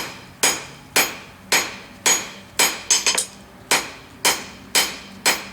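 Hot steel hammered on an anvil to taper it for a scarf weld while forging slot jaw tongs: about ten loud, ringing blows at a fairly even pace, each decaying briefly, close up with no talk.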